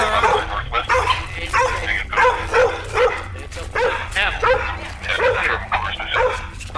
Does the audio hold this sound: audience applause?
no